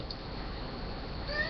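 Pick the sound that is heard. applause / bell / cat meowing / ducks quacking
cat meowing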